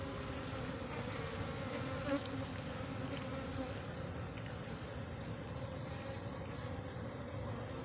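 Colony of Apis cerana honeybees being moved into a hive box, a dense continuous buzzing drone, steady and close throughout with no talking.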